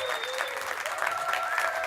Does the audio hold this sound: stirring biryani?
no